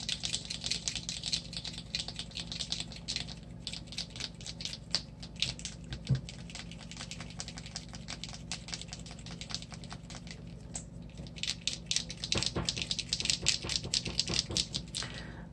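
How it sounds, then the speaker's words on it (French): A Color Factory paint marker is shaken so its mixing ball rattles inside, making a steady run of quick, close clicking taps for the whole stretch with only brief pauses. "Et il y a une bille dedans, hein, vous l'entendez?"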